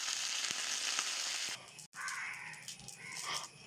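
Shallots, green chilies and curry leaves fry in hot oil for a Kerala-style ripe mango curry: a loud, even sizzle that cuts off abruptly partway, then gives way to quieter clatter and bubbling.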